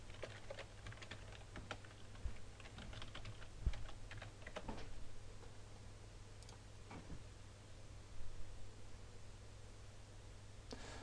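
Someone types a username and password on a computer keyboard: irregular bursts of quiet key taps with short pauses, close and faint over a low steady hum, no talking.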